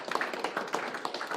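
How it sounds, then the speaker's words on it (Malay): A short burst of audience applause at a state-level Teacher's Day ceremony in Selangor, 2020, honouring a newly appointed deputy education minister: a brief spatter of clapping from a crowd, moderately loud and uneven. "Kita bagi satu tepukan kepada YB."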